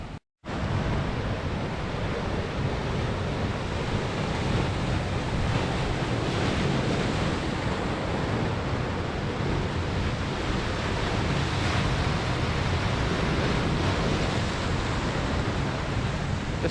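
Sea waves crash and churn against a wild Scottish coastline, a loud, continuous roar of surf mixed with heavy wind buffeting the microphone, with no talking.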